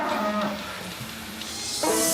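Several cows moo on a British dairy farm in Oxfordshire at morning milking time, with a couple of low, drawn-out calls rising from a busy barn background, the last one louder and closer.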